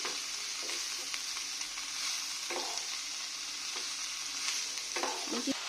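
Leafy red amaranth greens sizzle steadily in a hot pan, with a few soft scraping stirs near the middle and end, close and continuous with no talking.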